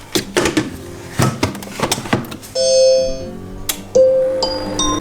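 A series of clear electronic beeping tones sounds after several clunks and knocks, a close chime from a Monsieur Cuisine Smart cooking machine repeating in short bursts as chicken finishes cooking.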